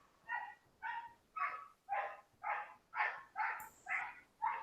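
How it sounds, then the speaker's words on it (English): A loud dog barks repeatedly outside, nine evenly spaced barks in a steady rhythm, heard from some distance with no talking over them. "Yeah, it's a loud ass dog."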